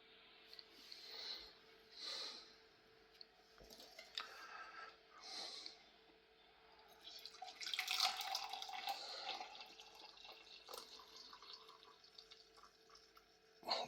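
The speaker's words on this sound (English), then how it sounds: "And then let's get this tea poured." Tea being poured into a cup, a soft trickling stream with a few faint drips, growing louder toward the end, quiet and close with no talking.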